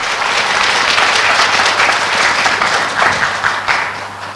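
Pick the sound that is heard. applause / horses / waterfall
applause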